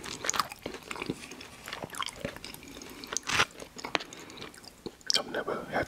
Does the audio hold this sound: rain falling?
no